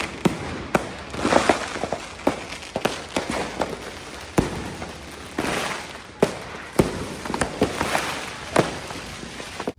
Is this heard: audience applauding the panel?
no